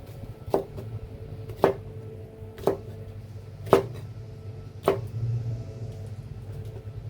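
Okra pods cut with a knife on a cutting board, five distinct sharp chops spaced about a second apart, close and clear over a faint low hum.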